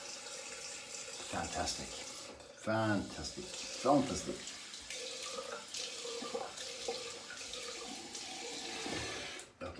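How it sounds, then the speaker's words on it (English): Soap is rinsed under a running kitchen tap, a steady close trickle with splashing shifts and scrubbing, while a person speaks briefly over the water. "Okay, I'm gonna rinse."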